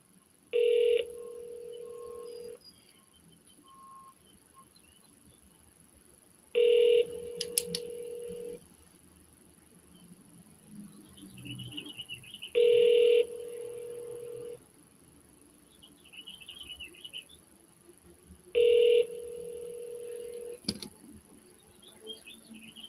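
Telephone keypad DTMF tones entered at a spam call filter prompt, four short bright beeps spaced evenly several seconds apart, each followed by a steady tone, over a quiet phone line with faint background murmur.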